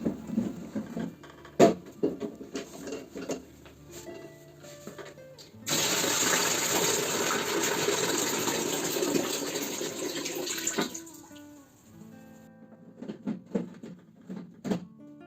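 Water from the tank of an Aircond A-26 smart dehumidifier pours out in one steady rushing stream for about five seconds, framed by clunks and handling knocks before and after, heard nearby with no speech.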